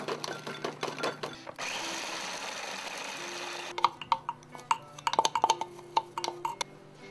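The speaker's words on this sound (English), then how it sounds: "we have to grind 1½ cups of walnuts" Walnuts for a Linzertorte ground in an electric kitchen grinder, a steady whirring buzz lasting about two seconds, followed by clinks and taps of utensils and bowls close by.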